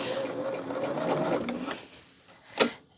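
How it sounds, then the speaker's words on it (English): A sewing machine stitching quilt fabric along a marked line, a steady close whirring hum for about two seconds that stops abruptly, followed by a single soft knock. "Now I like to sew on the line."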